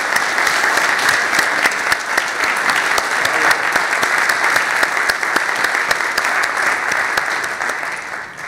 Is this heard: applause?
yes